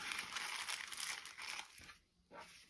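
Tissue paper crinkling as parts of an MPC 1968 Dodge Coronet R/T convertible model kit are unpacked, with close, continuous rustling and crackling that thins out and pauses before one last short crumple.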